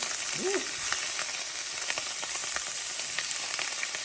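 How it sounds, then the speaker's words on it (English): Peppers go into a hot pan with browned sausage and fry with a steady bright sizzling hiss and light crackle, close and constant, with a brief squeak near the start. "next we're going to put in our peppers,"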